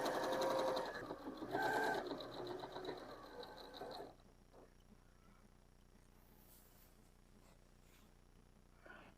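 A sewing machine topstitches fabric for a children's crayon caddy, running in close, steady bursts for about four seconds with a short pause, then stopping and leaving faint room quiet with light handling noises.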